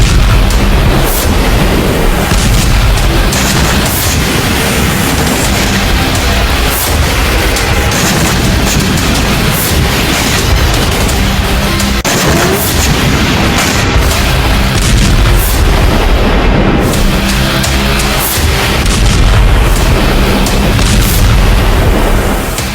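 Ballistic missile and Shahed drone strikes in an eastern Ukrainian city send loud, continuous rumbling booms and blasts rolling together for over twenty seconds, with no pauses between them.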